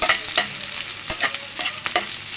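Onions frying in a pan for spinach with small fish, a close, continuous sizzle broken by a few scraping stirs of a spatula.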